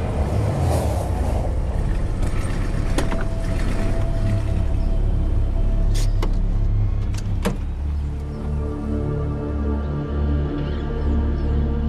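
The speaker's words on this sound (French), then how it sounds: "Puis une voiture est arrivée" A car's engine hums steadily and loudly nearby with low rumbling and a few sharp mechanical clicks and knocks, continuous throughout as the vehicle pulls up.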